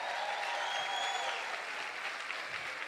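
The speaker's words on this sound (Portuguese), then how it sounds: "dá um aplauso para ele aí" A church congregation applauds, steady dense clapping filling the room throughout, with faint voices mixed in.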